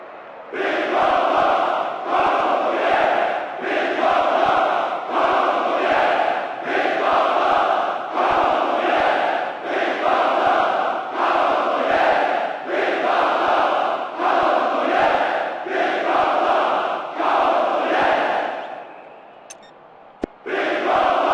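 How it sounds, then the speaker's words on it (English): Stadium crowd in the football video game PES 2010 voicing frustration, a loud, sustained roar of chanting and jeering that swells and pulses rhythmically for about twenty seconds before fading near the end. "The crowd expressing frustration in no uncertain terms, clearly unhappy as their team give away that cheap goal."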